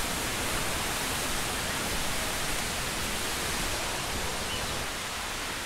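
Waterfall at a reopened tourist spot in Chiang Mai, a dense continuous roar of rushing water, steady and fairly close with no other sounds.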